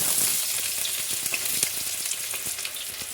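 Onions dropped into hot oil for sarson ka saag, a steady loud close sizzle with dense crackling and small pops throughout, no one speaking.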